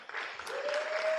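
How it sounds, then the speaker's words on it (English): A literary festival audience in Kampala applauds a panel, a brief spell of steady, fairly quiet clapping from a seated crowd. "Another round of applause for the"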